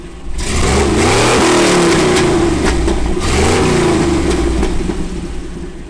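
A 350 Chevy V8 in an International Scout 80 revs hard through Flowmaster 40 series side-exit exhausts, loud and close, with two rising-and-falling throttle blips over a deep, rumbling idle.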